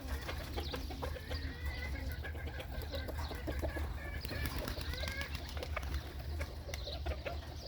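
Pigeons being fed grain outdoors in Al-Qassim, Saudi Arabia, with steady cooing, clucking and fluttering wings over a constant low rumble, the bird activity busy and continuous throughout.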